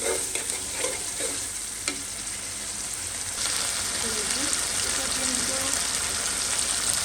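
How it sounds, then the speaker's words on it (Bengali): Ginger and garlic fry in hot oil, a dense, steady sizzle with a few sharp stirring clicks early on and a faint murmur of a voice beneath. "আগে আদা রসুনটা তেলে ভাজা নেই"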